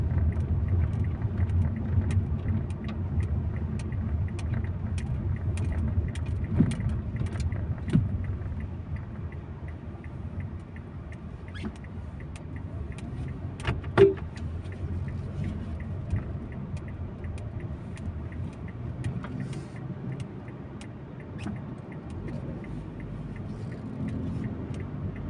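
Heavy, congested traffic on an avenue in Quezon City: a constant low rumble of idling and creeping vehicles, with occasional ticks and a brief sharp clank standing out partway through.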